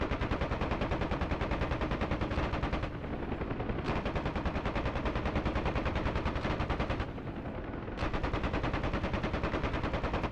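Door gunner's machine gun firing from a Huey helicopter in the DCS World combat simulator, long loud continuous rapid bursts with two short pauses where the rotor drone shows through.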